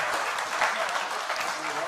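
Audience at a community public information meeting giving a round of applause, a continuous dense patter of clapping held at an even level throughout.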